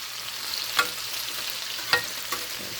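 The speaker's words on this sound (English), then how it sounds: "So now we can fry our seasonings here." Ginger and seasonings frying in plenty of oil for chicken adobo give a steady close sizzle, broken by a few sharp stirring clinks and scrapes, with no talking.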